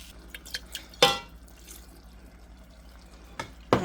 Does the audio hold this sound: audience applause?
no